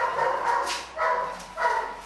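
Three sharp dog barks ring out one after another at a dog training farm, loud and close, with short gaps between them and no talking.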